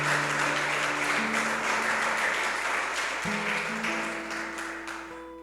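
A church congregation claps for Jesus, loud and continuous, slowly fading toward the end while organ or keyboard chords sustain underneath.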